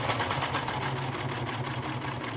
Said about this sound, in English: You want to get that serger stitch or overlock stitch started, because you need a chain, I don't know, a couple inches long before you start sewing with your fabric.